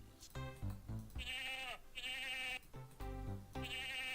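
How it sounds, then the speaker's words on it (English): Sheep bleating in the western adventure game Freddy Pharkas: Frontier Pharmacist, a series of wavering, nasal baas in quick succession, clear and close with no talking. "Everybody in town knows Trixie the accommodating sheep."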